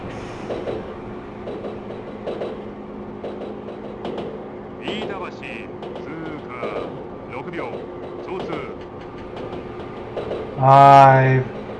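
Train slowing in the Japanese rail simulator Densha de Go FINAL, with rumbling, creaking carriage mechanisms and clicking under a speaker's steady commentary, ending in a brief loud chime or tone.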